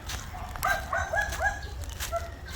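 A rooster crows in a short, thin call at moderate distance over a low rumbling background, with a faint extra cluck near the end.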